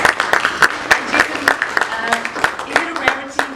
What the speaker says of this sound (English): please do give him a warm round of applause